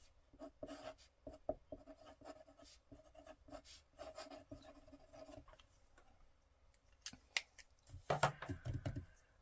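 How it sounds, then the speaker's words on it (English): A pen or pencil scratches a template mark onto a handmade book, producing soft irregular writing strokes up close that end in a louder burst of scraping. "So I'm going to just mark this as my template for Dick and Jane."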